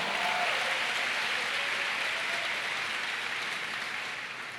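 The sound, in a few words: congregation applauding in church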